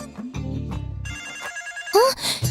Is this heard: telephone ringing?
yes